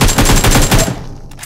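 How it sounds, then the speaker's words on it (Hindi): Rapid gunfire in the mobile battle royale game BGMI, a dense burst of repeated shots filling the first second, then trailing off into quieter game noise. "गोली चला रहे हैं,"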